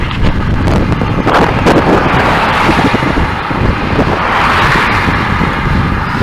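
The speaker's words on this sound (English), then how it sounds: "I'm finding it really hard to do any commentary with the camera in my hand because the wind's so strong." Strong wind roars steadily across the microphone while riding a bicycle outdoors, a loud continuous buffeting rumble with no pauses and no speech.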